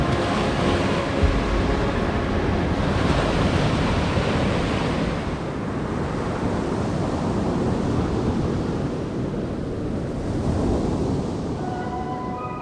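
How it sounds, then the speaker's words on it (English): Large sea waves surge and break continuously at a seaside campsite in rough weather, a loud, steady wash of surf with wind rumbling across the microphone. "The waves are bigger due to the weather"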